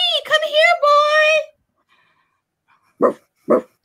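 A dog gives two short, sharp barks close by, spaced about half a second apart, after a long drawn-out voiced call and a quiet pause.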